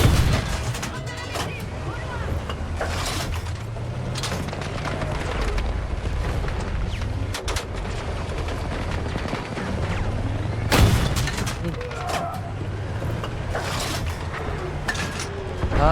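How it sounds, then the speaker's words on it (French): Dense bursts of gunfire and heavy explosions from a Battlefield 6 campaign battle, continuous and loud with several sharp booming blasts, and someone talking over the action. "Il y a trop d'explosions là."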